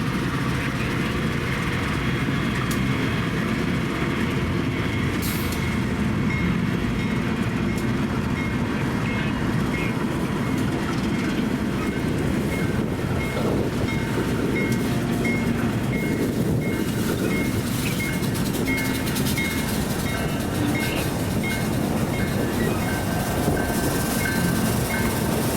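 The eastbound St. Joseph local freight train rolls past in the Kansas City area, a loud, continuous rumble of engines and clattering freight cars with steady wheel noise throughout.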